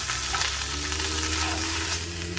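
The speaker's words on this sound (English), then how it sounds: "take that lamb all on the pan like that. I'm going to take your Hanout spice, just generously everywhere, pop it in that pan." Lamb coated in ras el hanout spice sizzles steadily in a hot oiled pan, a close, continuous frying hiss with faint stirring scrapes and no talking.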